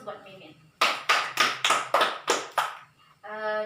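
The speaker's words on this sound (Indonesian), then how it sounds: "Aplaus buat Mimin" A small group claps in a short burst of about seven sharp, evenly spaced claps, with a voice talking just before and just after.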